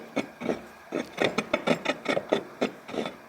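A truck wheel turning against new oversized brakes rubs in a rhythmic series of raspy scrapes, about a dozen close, loud strokes repeating roughly every quarter second.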